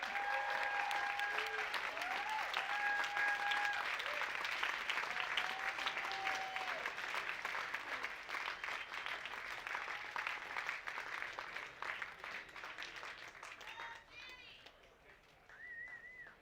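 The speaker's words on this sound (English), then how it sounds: "one more round of applause" An audience at a Western States awards ceremony breaks into sustained applause, dense clapping with a few whistles and cheers, gradually thinning toward the end as voices murmur.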